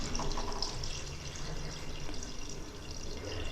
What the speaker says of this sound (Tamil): நான் ஆல்ரெடி வாத்தை வேக வச்ச தண்ணியவே இதில் சேர்த்துக்க போகிறேங்க.